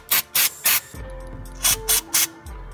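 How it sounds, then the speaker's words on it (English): Brake cleaner is sprayed from an aerosol can onto newly installed stainless steel brake lines of a BMW E46 M3. Six short, close hissing bursts come in two groups of three with pauses between, and no one speaks. "get some brake clean, spray everything down."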